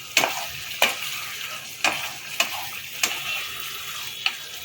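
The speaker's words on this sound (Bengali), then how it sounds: "এবার আমি ভেজে রাখা চিংড়িগুলো এর মধ্যে দিয়ে দেবো এটা আমি ড্রাই করবো গ্রেভি করবো না" Fried prawns, cooked in the style of a Chinese chilli garlic prawn dish, are tossed dry in a pan with a constant sizzle under repeated sharp scrapes and taps of a stirring spoon, about seven evenly spaced strokes.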